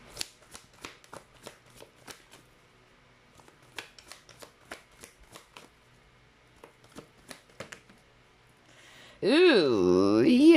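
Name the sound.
shuffling archetype cards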